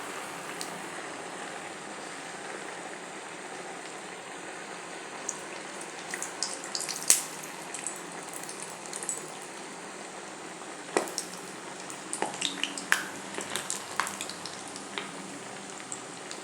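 Crispy rava and rice tikkis fry in hot oil over a medium gas flame, a soft steady sizzle with scattered small crackles and pops that grow busier later on, fairly quiet and with no voices.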